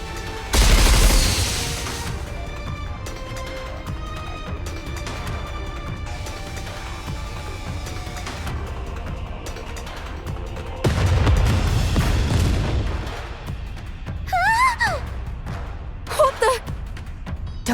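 Missiles fire wildly and explode in the game Goddess of Victory: Nikke, with loud booming blasts near the start and again around the middle, a dense rumbling barrage between them, whistling streaks, and voices talking over the action.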